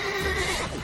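Horse neighing in the video game The Witcher 3, a single loud, close whinny lasting under a second.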